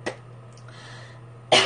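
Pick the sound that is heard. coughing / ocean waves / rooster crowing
coughing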